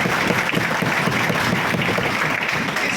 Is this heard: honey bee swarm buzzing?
no